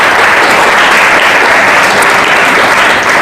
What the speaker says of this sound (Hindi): ताली बजा रहे हो तो अच्छे से बजाइए।